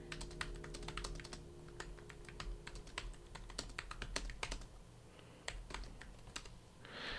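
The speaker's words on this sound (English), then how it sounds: "Mrs. Director typing." Rapid clicking of computer keyboard keys, typed in irregular bursts close to the microphone, with no talking and a low steady hum underneath.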